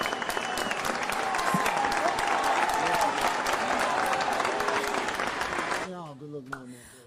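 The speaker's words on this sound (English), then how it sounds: "Natty O a round of applause." Loud sustained applause from a live studio audience at a Q&A show, dense clapping for about six seconds before fading out abruptly.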